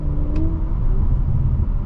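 Steady low engine rumble from a 2018 Audi RS5 Coupe exhaust, a constant droning note held throughout with no voices.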